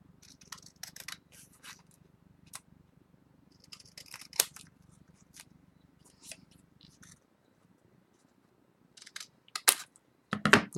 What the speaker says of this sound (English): And then we can cut around it again.